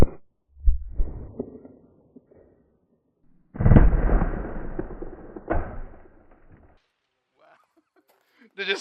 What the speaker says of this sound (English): will a 3A bulletproof vest stop a 500 soft point Magnum